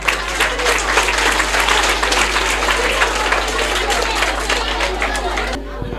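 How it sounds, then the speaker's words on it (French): Loud, sustained applause from a school ceremony audience, dense clapping with crowd chatter underneath and a constant low hum, cutting off sharply near the end. "Il faudra applaudir ça encore une fois."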